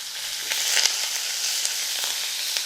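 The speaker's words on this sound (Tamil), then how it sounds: "இந்த வெங்காயம் வதங்கிட்டு இருக்கும்போதே" Onion sautés in hot oil with curry leaves while cooking a broad bean poriyal, giving a bright, steady, close sizzle with a few crackling pops scattered through it.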